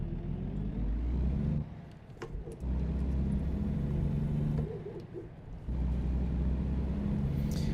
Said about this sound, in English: Yeah, there's a bunch of cars coming this way.